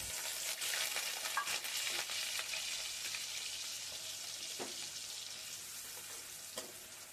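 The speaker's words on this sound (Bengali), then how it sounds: "ওই তেলের ওপর দিয়ে দেবো কেটে রাখা পেঁয়াজ" Chopped onion dropped into hot oil left from frying prawns, sizzling loudly with a dense hiss and occasional stirring scrapes, gradually settling, no talking.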